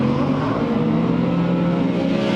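A drift car at a Texas 2018 Top 16 drifting competition roars at high revs, a loud sustained engine and exhaust drone holding steady throughout, with no voices over it.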